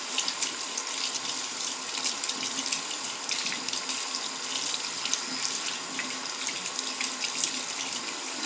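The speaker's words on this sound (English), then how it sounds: "you rinse it with the water" Tap water runs in a steady, close splash as a makeup brush is rinsed under it, a continuous hiss with small flickers of spatter and no voices.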